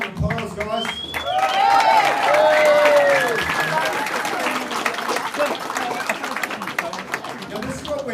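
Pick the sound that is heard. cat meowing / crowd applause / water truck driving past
crowd applause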